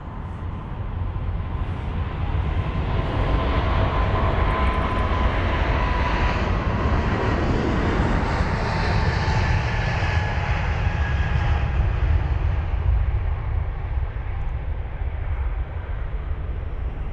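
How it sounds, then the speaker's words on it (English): A 26-year-old United Boeing 777-200, registered in 1997, departs from the runway at London Heathrow for Washington. Its jet engines give a loud, sustained broadband roar that holds steady throughout, with a faint whine layered over it and no voices. "The United 777-200 is on the runway now off to Washington."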